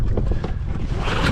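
A small, warm outboard boat engine is given throttle on the water, producing a steady, loud, close rumbling roar mixed with wind buffeting the microphone.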